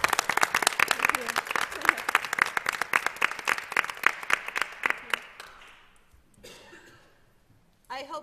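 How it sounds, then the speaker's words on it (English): An audience at a school board meeting gives a big round of applause, dense close clapping that keeps going for about five seconds, then thins out and fades to near quiet before a brief noise at the very end. "One more big round of applause."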